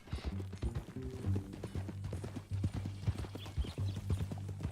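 Horse hooves clip-clop steadily on the ground in Red Dead Redemption 2, the rhythmic beats prominent and close. A low tonal hum runs underneath, and a few faint voice-like bits mix in.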